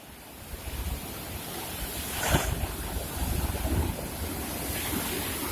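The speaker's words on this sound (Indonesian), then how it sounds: "Ombaknya keren banget." Ocean waves at Ujong Lhok Geulumpang beach in Calang, Aceh Jaya, a continuous roar of surf mixed with heavy wind noise, with one louder wash of breaking water midway.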